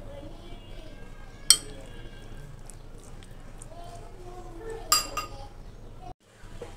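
A spoon clinks twice against a bowl while marinade ingredients for tehari are mixed: two sharp metallic taps a few seconds apart over a low, steady kitchen background.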